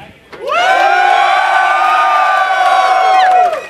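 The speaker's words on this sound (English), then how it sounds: "Come on, give us a cheer." A large live audience at a PlanetSide 2 gaming tournament bursts into loud, sustained cheering and whooping, building quickly and holding for about three seconds before cutting off.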